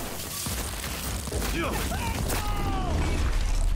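Gunfire and chaotic combat fill a Cyberpunk 2077 gameplay scene, dense crackling shots and impacts under continuous game noise, while a voice talks over it.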